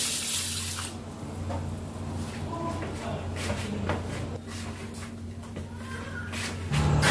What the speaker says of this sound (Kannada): ಇವಾಗ ಇದಕ್ಕೆ ನೀರನ್ನು ಆ್ಯಡ್ ಮಾಡ್ತಾಯಿದ್ದೀನಿ